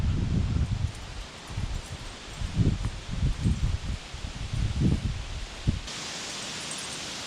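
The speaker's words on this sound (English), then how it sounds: "Wind with gusts to 40 miles an hour today." Gusty wind gusting to about 40 miles an hour sweeps through leaves in loud, uneven rustling bursts close to the microphone, then settles into a steady, softer hiss near the end.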